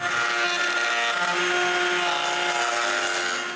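A router on a router table routes a half-circle profile into a wooden board for dowels, with a loud, steady high-pitched motor whine and cutting roar that holds without a break.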